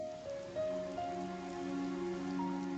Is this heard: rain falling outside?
yes